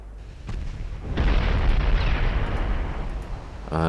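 Warship naval guns firing in Ultimate Admiral Dreadnoughts, a soft thump followed by a heavy, rumbling boom that rolls on for a couple of seconds, ending with a brief mechanical whine.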